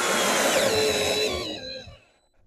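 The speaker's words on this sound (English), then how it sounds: "get my screw, and drive that right in flush" A Work Pro cordless drill set in first gear drives a screw in flush with a steady, rising motor whine that cuts off near the end, leaving brief quiet.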